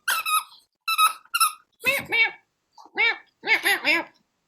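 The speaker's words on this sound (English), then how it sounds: "once the squeaky toy comes out, the phone conversation is over" A dog plays with a squeaky toy, setting off sharp, close, high-pitched squeaks in quick bursts of two or three separated by short pauses.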